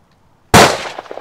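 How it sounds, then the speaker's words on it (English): A single sharp gunshot from a handgun fired at a home birthday gathering, with an abrupt loud crack after silence and a ringing decay. "Shooting the gun you just gave me"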